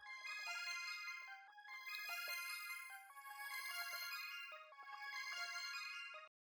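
A bright synth arpeggio built in FL Studio and shaped with the Shaperbox plugin, rapid chiming notes cycling in a rhythmic pumping pattern, loud and alone until it cuts off at the end.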